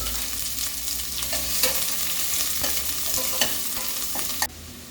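A large chopped onion with curry leaves sautéing in hot oil in a pan for a tomato curry, a steady close sizzle broken by several sharp clinks and scrapes of a stirring spoon.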